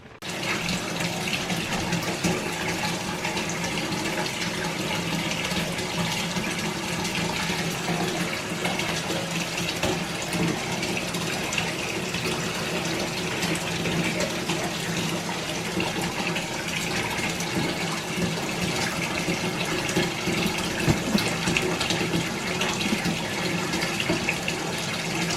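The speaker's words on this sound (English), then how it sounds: "So while I was taking a shower" A shower runs continuously at close range, a steady broadband hiss of falling water that stays level throughout with no voices.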